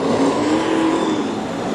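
Race cars roaring through turns one and two at Carina Speedway during the AMCA Nationals final, a loud, continuous engine drone held close with no pause.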